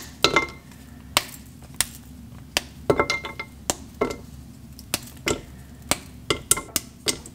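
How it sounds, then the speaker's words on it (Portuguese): Knife chopping chocolate on a board: a run of sharp, separate taps and knocks, roughly one or two per second, close and fairly clear over a steady low hum, with no talking. "picar o chocolate aqui"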